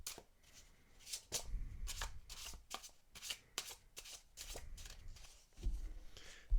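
A deck of cards being shuffled by hand, with repeated quick riffling bursts and soft slaps in an irregular rhythm, close and fairly quiet, no speech.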